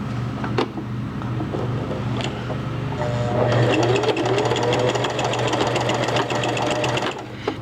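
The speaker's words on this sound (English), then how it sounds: "we're gonna stitch that part down" A sewing machine stitches elastic down on a case, a steady motor hum at first that breaks into a faster, denser run of rapid needle clatter, close and continuous with no talk.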